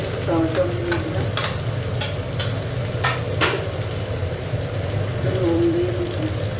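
Tomato dropped into a pan of fish-oil curry with potato and eggplant, a steady close sizzle of frying with scraping stir strokes and light crackles throughout.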